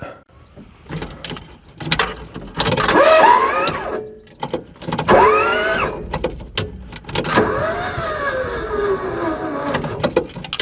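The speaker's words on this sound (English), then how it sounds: "Excellent, engine turning over." A barn-find Ford Escort Mk2, sitting unused for decades and with its spark plugs removed, is cranked over by the starter in several whirring bursts with short pauses between them. It is heard close up, with no one talking.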